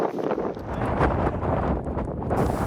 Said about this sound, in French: Déjà qu'il y a beaucoup de vent là.